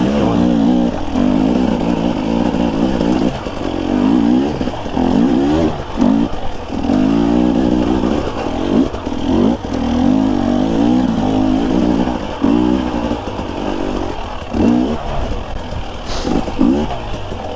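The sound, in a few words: dirt bike engine while riding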